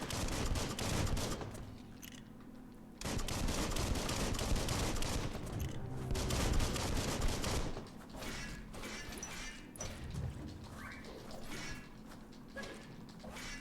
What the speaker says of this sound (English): let's open this up with a little bit of gunfire